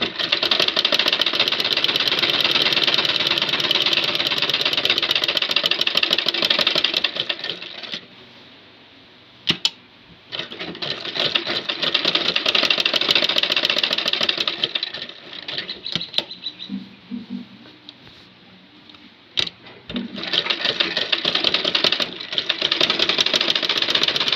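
A sewing machine stitches the neck piece of a small child's dress in long, fast, continuous runs broken by short pauses, loud and close, with soft handling noises between bursts.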